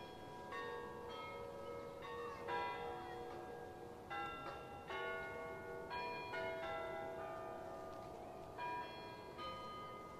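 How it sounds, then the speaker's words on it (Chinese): Church bells peal at a Peter the Great–era fortress in Russia, a steady run of resonant, overlapping strikes heard from some distance over a constant outdoor hum. "教堂的钟声，"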